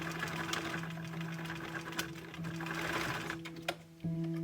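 A sewing machine runs a zigzag seam on a lined drawstring bag and then reverse stitches to lock it, giving a close, steady mechanical whirr with brief pauses and clicks as the stitching changes direction.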